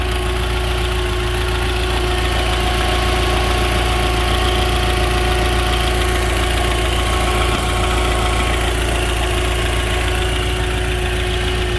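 A 1992 Volvo 460 turbo engine idles while warming up, giving a loud, steady, close-up drone with a constant low hum and no change in pace.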